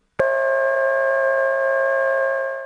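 A steady electronic special dial tone from a 660 telephone exchange begins abruptly and holds a constant combined pitch for a couple of seconds before fading slightly.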